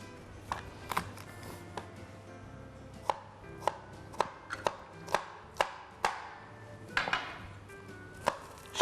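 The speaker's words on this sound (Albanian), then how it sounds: "do të grij hudhra" A knife chopping garlic on a board in a home kitchen during a potato and spinach strudel recipe, with quick, irregular close-up taps that come in uneven bursts over a faint background hum.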